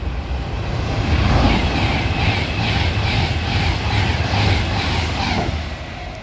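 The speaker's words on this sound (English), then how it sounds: "getting ready to pass through now is going to be another Pendolino. This is bound for Euston" A Class 390 Pendolino from Glasgow Central to Euston rushes through Bletchley on the West Coast Main Line at speed, a loud, steady roar of wheels and rushing air that swells and holds across the pass, with no voices.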